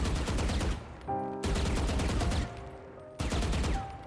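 Rapid bursts of Vandal rifle spray fire in the tactical shooter Valorant, loud close automatic gunfire in three sustained strings separated by brief pauses with tonal ringing, no voices.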